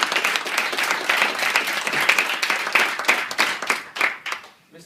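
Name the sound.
audience applause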